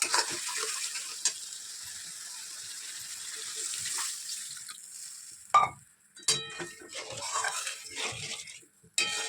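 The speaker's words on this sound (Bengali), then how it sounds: "মাছের জালের মশলাটা কষিয়ে নিচ্ছি দেখো পেঁয়াজ আদা রসুন সব দিয়ে দিয়েছি" A spice paste of onion, ginger and garlic sautés in a pan for fish curry, with a close, steady sizzle broken by scraping stirs and clinks of a utensil against the pan, no talk.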